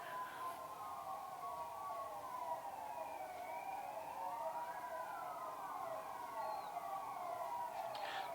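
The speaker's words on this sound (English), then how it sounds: "Why are there so many sirens?" Several emergency sirens wail and overlap at a distance, their pitches sweeping up and down continuously over a low background hum.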